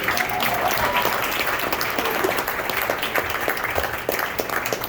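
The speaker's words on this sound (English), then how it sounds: "their band director, Bill Flaherty, give him a nice round of applause, ladies and gentlemen" Audience applause at a big band jazz performance in a club, recognising the band director; a sustained, fairly loud wash of clapping with a few distinct close claps standing out.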